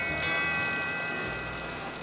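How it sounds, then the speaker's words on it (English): Rain patters steadily in a 1965 Pink Panther cartoon, a dense, even hiss of falling drops with faint ticking, heard alone without talk. "It's raining."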